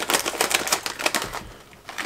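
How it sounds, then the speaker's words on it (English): Scissors snip through a crinkly plastic bag of Korean corn chips, a quick run of close, sharp crackling cuts in an indoor setting with no talk. "I'm going to open it up this way with scissors"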